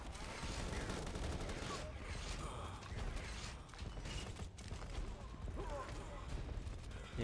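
A gunfire bombardment in the Modern Ops shooter game, dense clattering bursts and mechanical rattles filling the background at low volume, with a voice speaking over it.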